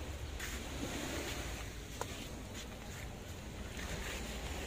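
Sea water washes against rocks along the shore during a boat ride in Boracay, a steady broadband wash of surf with wind noise, continuous and fairly close, with no talking.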